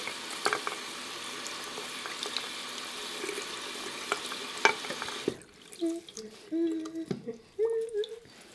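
Lemon zest soap is worked into a loofah beside a sink, giving a soft, wet, squishy rubbing that runs steadily and fairly close, then gives way to quieter scattered squelches and dabs.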